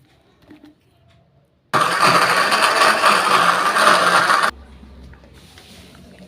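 An electric blender grinds a spice paste with oil for green chili chicken gulai: one loud, steady whirring burst of about three seconds that starts and cuts off abruptly, with quiet room sound before and after.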